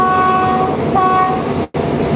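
A train rolls along loudly and close by, with a steady mechanical rumble, a sustained horn-like tone, and a brief dropout near the end.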